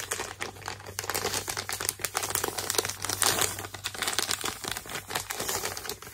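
Continuous close crinkling of plastic packaging from a mail parcel, dense crackly rustles running steadily throughout with no voices.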